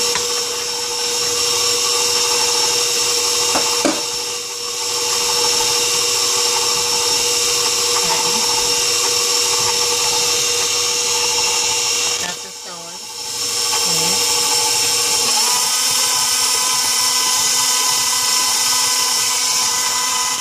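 An electric mixer whirs steadily through sugar cookie dough as two eggs are added, a continuous loud motor drone with brief dips, its tone shifting lower near the end as it slows.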